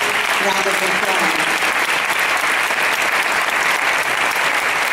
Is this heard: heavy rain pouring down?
no